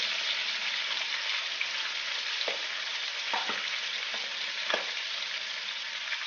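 Tunisian stuffed peppers fry steadily in hot oil, a continuous close sizzle with occasional soft pops and stirring clicks, no voices.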